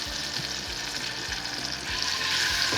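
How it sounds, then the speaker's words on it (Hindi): Garlic and ginger paste frying in oil in a kadhai: a steady close sizzle with faint rhythmic scraping beneath it that brightens toward the end. "इसमें लहसुन अदरक का पेस्ट डाल के तो उसको फ्राई कर देंगे"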